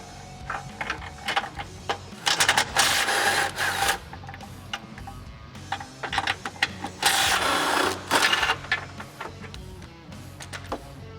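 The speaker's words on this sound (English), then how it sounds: "We're going to use an 18mm socket to get all those out." An 18mm socket on a ratchet clicks steadily while taking off front bumper nuts on a frame rail of a Jeep Wrangler JL, close and clear, in long whirring bursts with short pauses between them.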